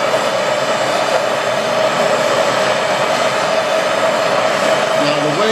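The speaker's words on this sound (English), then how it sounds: "I'm going to turn this torch up to get it hot." A welding torch flame turned up to heat aluminum for a tee joint, giving a steady, loud broadband roar that holds constant throughout, with a faint tonal whine near the end.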